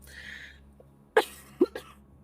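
A person with a cold coughs two or three times, short sharp bursts close by after a faint, airy sound and a quiet pause; no one speaks.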